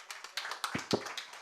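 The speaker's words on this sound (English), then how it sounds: "Can we have a round of applause" Light, scattered applause from a small group at an MSME and startups business forum in Karnataka, irregular claps at moderate volume with no voices over it.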